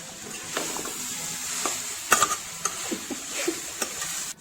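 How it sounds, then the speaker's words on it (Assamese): Potato pieces and meat frying in a pan for a home-style chicken dish, with a steady soft sizzle, occasional stirring scrapes and a few sharp clicks of a utensil against the pan, close and alone. "এতিয়া এইখিনি অলপ ভাজি ল'ম।"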